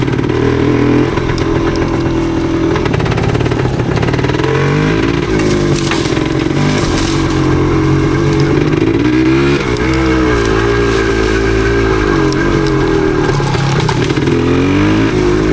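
A 1977 Yamaha DT250 motorcycle idles and revs close by in a residential area, its loud two-stroke exhaust note rising and falling through several throttle blips without any talk.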